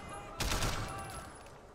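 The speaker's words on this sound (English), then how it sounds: "A hail of gunfire." Gunfire from the video game Sleeping Dogs: a brief, muffled burst of several rapid shots at moderate distance, fading into a low rumble and hiss.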